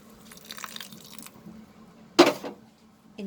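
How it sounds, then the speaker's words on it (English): Water is poured into soya keema in a cooking pan, making a soft trickle and then one sharp splash with a brief sizzle, followed by a quieter stir near the end. "Now we will add little water,"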